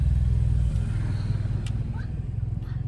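Motorcycle and car engines rumble steadily and close by at a busy beach resort, a continuous low drone with a faint rising rev partway through.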